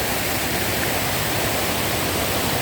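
A strong river current rushes past over large rocks, a dense, loud, unbroken roar of flowing water that fills the whole short stretch with no voices.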